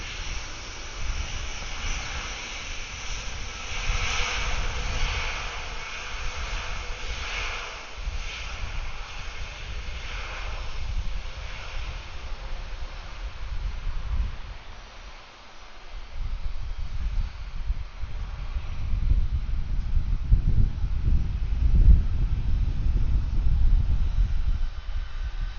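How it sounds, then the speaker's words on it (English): A Boeing 757 begins its evening takeoff roll at Atlanta airport as a distant, broad rushing roar, mixed with wind noise, that swells into a deeper rumble toward the end. "this 757 is rolling"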